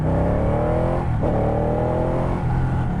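A Ducati Panigale 899 sportbike engine drones loudly and steadily while riding, its pitch climbing and dipping as the throttle shifts, heard close and alone over wind rush.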